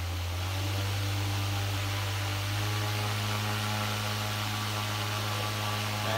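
Minn Kota Endura electric trolling motor with its propeller spinning up close, a steady loud electric hum and whir that holds continuously with little variation.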